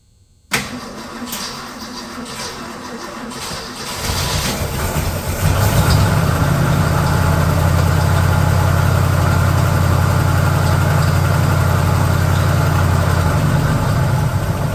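A 1966 Ford Custom engine cranks, catches and settles into a steady, loud idle, with the running note strengthening after a few seconds and holding close and continuous to the end.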